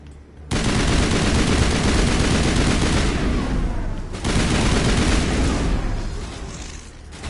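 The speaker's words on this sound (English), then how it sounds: "Let's try another grenade, just for variety's sake." Mass Effect combat with a grenade blast and gunfire: a sudden loud, dense burst of shots and booms rolls on almost continuously for several seconds, dips briefly, then surges again before fading slightly.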